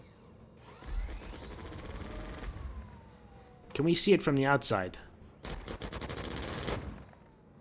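Guns of an Aegis Redeemer ship firing in the Star Citizen game: bursts of rapid mechanical gunfire with ratcheting, gear-like rattles, a loud cluster in the middle and a longer burst after, with talk over the start.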